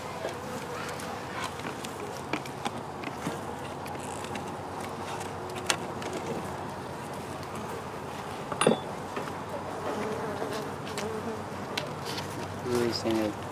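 Honeybees buzzing around an open hive during an inspection, a steady close hum with occasional scuffs, clicks and handling sounds from the beekeepers, and voices faintly in the background.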